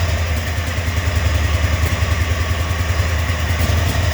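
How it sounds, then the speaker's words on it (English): Engine idling steadily with a bad head gasket, a fast exhaust tick running through a low, even rumble, close and loud with no talking. "I don't know if you can hear that ticking or not, but that's the exhaust. That's that head gasket."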